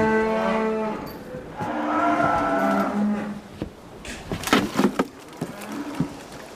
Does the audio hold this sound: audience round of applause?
no